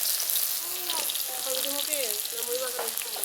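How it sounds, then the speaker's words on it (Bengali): Oil sizzles in a hot wok on a fierce stove before onions go in for a chicken curry. A steady hiss and crackle continues under faint background voices or tonal sounds. "হ্যাঁ, দেখো তেল দিচ্ছি এখন।"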